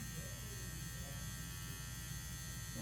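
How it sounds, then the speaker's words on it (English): Electric dog clipper blades running nearby, a steady low mechanical buzz with a strong hum, constant and unbroken for a few seconds. "the food is only happening because the clipper blades are turning on"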